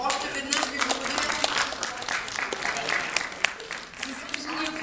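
At a volunteer award ceremony, an audience gives sustained applause with sharp individual claps standing out, moderately loud, alongside some crowd murmur and talking.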